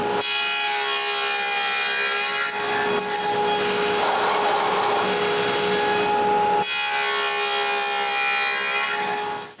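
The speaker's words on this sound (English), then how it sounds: "I go back to the table saw and cut more box joints" A table saw cuts box joints in wood, its steady whining buzz running unbroken at close range with a brief dip in the middle, no voices.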